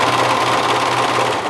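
A sewing machine top stitching a knit t-shirt seam runs in a steady, fast, even whir, close and loud, with no pauses or voices.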